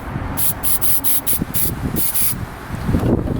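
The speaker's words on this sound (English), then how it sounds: "I have my parts cleaner here and I'm just going to go ahead and spray this out" Short bursts of aerosol parts cleaner sprayed into the reverse light bulb socket of a 2002-2005 Ford Explorer, about eight quick hissing pulses in a row close to the mic, then stopping.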